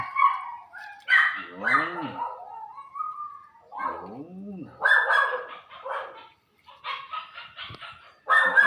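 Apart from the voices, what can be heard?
dogs barking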